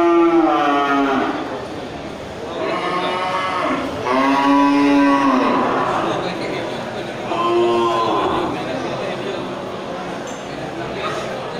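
Aceh cattle at a livestock market stall give several long, loud moos in a row, near and resonant, over a background of crowd murmur and voices.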